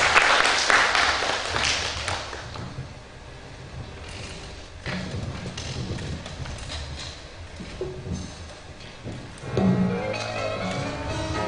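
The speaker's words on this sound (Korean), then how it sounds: "우리 박수로 하나님께 영광 올리겠습니다." A church youth-service congregation applauds together, a dense, steady wash of clapping that swells near the start and again near the end, filling the room for about eleven seconds.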